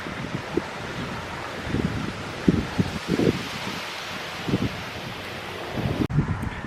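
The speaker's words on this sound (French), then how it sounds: "il y a vraiment trop de vent" Strong wind buffets a microphone outdoors on a stroll, a steady broadband roar with repeated low gusty thumps throughout.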